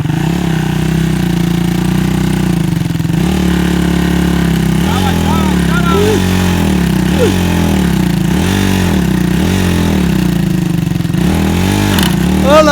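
A motorcycle engine runs close and loud for the whole stretch, a steady throbbing drone whose pitch rises and falls in slow waves, as if the throttle is gently blipped.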